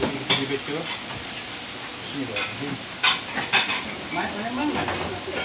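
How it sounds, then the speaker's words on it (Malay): Oil sizzles and crackles steadily as floured fish fries at a village food stall, with occasional louder spits and faint voices in the background. "terus goreng eh"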